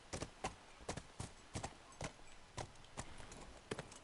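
Horse hooves clip-clop in The Last of Us Remastered, a quiet walking gait of sharp, evenly spaced double-beat hoof strikes with no talking over them.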